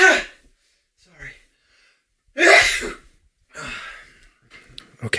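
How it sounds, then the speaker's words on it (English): A person strains against a stubborn sneeze with breathy gasps and sighs, then lets out one loud sneeze around the middle, followed by softer breaths and sniffs. "This fucking sneeze won't come."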